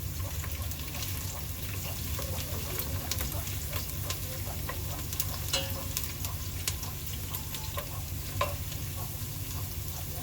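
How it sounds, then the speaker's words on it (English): Tomato paste frying in a pot for Ghanaian cabbage stew, a steady close sizzle with occasional stirring scrapes and pops. "This is my tomato paste cooking."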